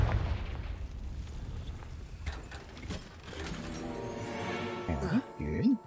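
A Confringo fire spell goes off in Hogwarts Legacy with a series of crackling bursts and a popping blast, followed by whooshing magical tones near the end, all fairly loud and close.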